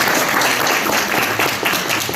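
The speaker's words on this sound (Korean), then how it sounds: "김혜영 학교밖 청소년 지원센터 팀장님 토론을 다시 한번 큰 박수와 함께 들어보겠습니다" A seated audience at a youth-worker policy forum applauds continuously, a dense, even wash of many hands clapping at moderate distance for a couple of seconds with no voices.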